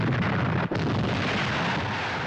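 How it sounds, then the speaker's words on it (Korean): A ship exploding in a computer-generated scene from a North Korean film, heard as a loud, sustained roaring blast with a brief dropout near the start, then a steady, dense rumble continuing to the end, with no voices. "그리고 잠시 후에 배가 폭발합니다."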